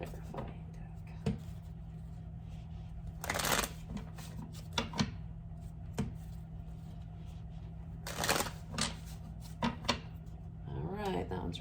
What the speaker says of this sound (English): Let's shuffle your clarifying deck really quick.